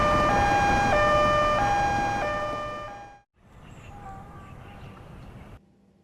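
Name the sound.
ambulance siren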